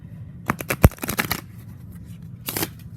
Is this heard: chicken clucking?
no